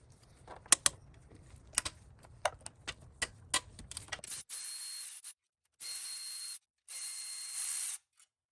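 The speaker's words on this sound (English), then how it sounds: "I'm just using my 1/2-inch ratchet, long 12mm socket, and a short extension" A 1/2-inch ratchet with a long 12mm socket and short extension backs out 12mm bolts on a Toyota 3.4L V6 5VZ-FE engine. Rapid, close, dry pawl clicks come in uneven bursts, then a steady hissing rush follows in separate blocks.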